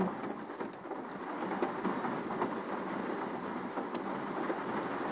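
Steady rain falls throughout, a dense, even patter with occasional sharper drops and no voices.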